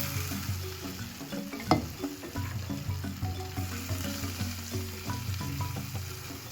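Soya chunks cooked with a quarter cup of coconut milk sizzle steadily in an open pan while a spoon stirs them, with repeated scraping strokes and one sharper knock. The sound is close and continuous, with no talking.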